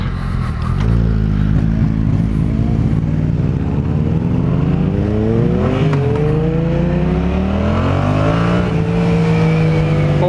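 A 2015 Yamaha FZ-07 motorcycle on a test ride, its engine loud and close, revving hard with pitch sweeping up and down through gear changes over steady wind roar.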